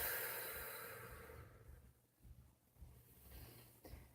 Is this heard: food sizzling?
no